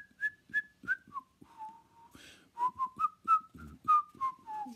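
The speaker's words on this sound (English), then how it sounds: "He whistles." Someone whistles a tune up close in a series of short, distinct notes that rise and fall, with a brief pause in the middle before the melody resumes.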